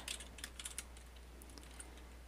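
Python commands are typed on a computer keyboard, with faint clusters of light key clicks at the start and a few scattered taps afterward, quiet and close over a low steady hum.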